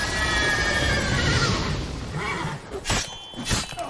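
A horse in the video game The Witcher 3 gives a loud, drawn-out neigh with a fluttering whinny, followed by sharp scuffling impacts and whooshes of combat.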